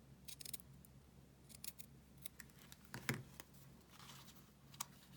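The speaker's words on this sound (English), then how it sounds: "I'm just going to cut the ribbon, or the flax ribbon, down to where I want it" Scissors snip through flax ribbon being trimmed for a handmade paper tag, a few quiet, crisp cuts with one sharper snip midway, in an otherwise hushed room.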